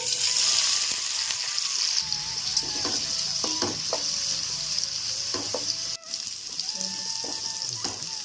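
Onion, tomato and green chili frying in oil with bay leaves for chicken pulav, a steady sizzle with a loud burst at the start, then repeated stirring scrapes and clinks.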